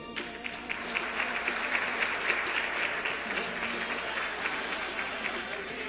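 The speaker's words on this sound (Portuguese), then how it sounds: "Não economize nas palmas" Congregation applauding in an Assembly of God church during a 90th-anniversary special session, a dense, sustained roar of clapping from a large crowd, fairly loud and continuous throughout.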